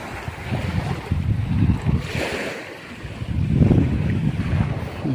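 Sea waves wash onto a beach on a fairly rough morning, rolling surges rising and falling close by, mixed with wind buffeting the microphone.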